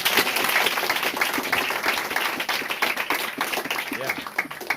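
A church congregation applauding, a continuous patter of many hands clapping with voices mixed through it.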